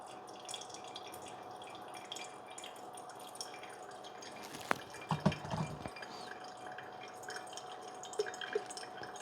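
Water is poured over coffee grounds in a reusable coffee filter and drips through steadily, faint and close, with a brief louder splash of pouring midway and soft scattered drips throughout.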